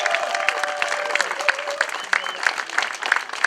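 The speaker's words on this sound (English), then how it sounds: "So I need everybody to give her a big round of applause, please, for Denise Oliveira." A crowd applauds warmly at a museum grand opening, with scattered distinct claps, while voices call out and chatter beneath the clapping.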